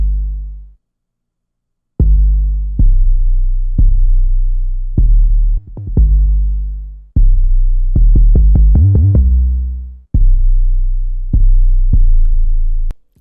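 Drill-style 808 bass pattern plays loud and alone: deep sliding bass notes in a syncopated rhythm, with quick stuttering hits and pitch glides mixing higher and lower notes, each note decaying before the next.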